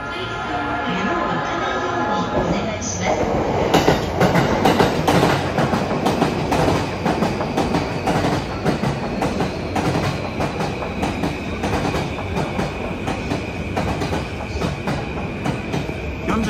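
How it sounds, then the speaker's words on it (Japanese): A delayed Sobu Line local train bound for Chiba pulls into crowded Shinjuku station, its wheels clattering and squealing loudly over the rails as the cars roll past close by, with a hum of platform noise underneath. "35分発各駅停車千葉行きの電車到着となります"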